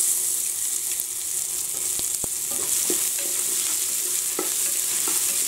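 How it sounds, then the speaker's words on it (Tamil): Dried red chillies and curry leaves frying in hot oil for a rice and dal dish, a steady loud sizzle with a few soft stirring clicks, close up and continuous with no voices. "வரமிளகாய் கருவேப்பிலை ரெண்டுமே வந்து நல்லா பொரிஞ்சிருச்சு"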